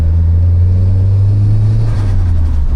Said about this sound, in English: We'll make a couple more turbo noises